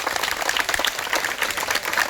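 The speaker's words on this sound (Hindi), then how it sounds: "जोरदार ताली।" A crowd applauds a Lakshya Physical Academy student from Hulasganj at a Jehanabad district home guard physical test, a dense burst of brisk, crackling hand clapping that runs unbroken for about two seconds.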